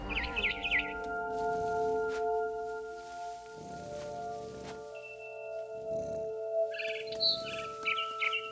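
A barn swallow chirps outside a window in the video game What Remains of Edith Finch, short bright high calls at the start and end over a sustained tonal music bed and soft rustling.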